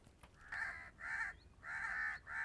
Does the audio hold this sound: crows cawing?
yes